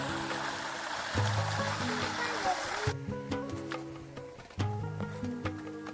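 Rushing hot spring water from a bore streams steadily into a river at Vansda for a few seconds, then drops to a lower flow while voices and other background sounds carry on nearby.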